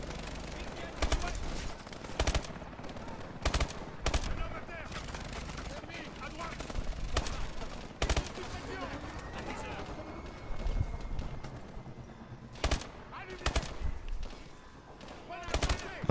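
Gunfire in the Call of Duty Advanced Warfare video game: repeated sharp bursts of shots in irregular clusters, loud against a busy battle background, with someone talking between shots.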